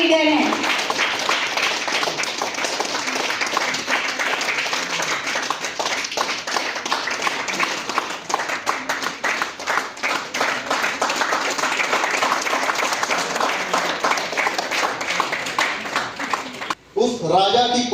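Sustained applause from an audience at a pinning ceremony in Bilaspur, Chhattisgarh, dense steady clapping holding for about seventeen seconds with voices mixed in, then a brief drop at the end.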